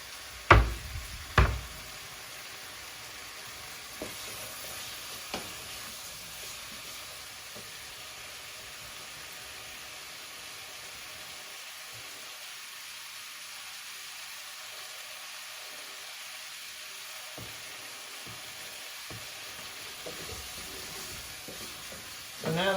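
Chicken and tomatoes cooking in a pot, giving a soft steady sizzle with a few knocks and stirring scrapes near the start, then a low quiet simmer for the rest.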